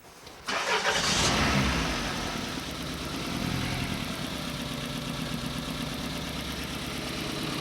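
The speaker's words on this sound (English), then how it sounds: "She's going to start the engine up" A car engine cranks and catches with a sharp burst, then settles into a steady idle that continues to the end.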